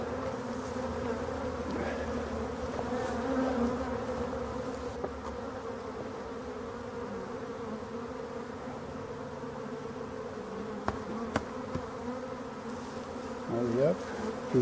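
Honeybees in a queenless, drone-laying hive kept by a beekeeper hum in a steady, dense close-up buzz throughout, with a few brief knocks near the end and no voices.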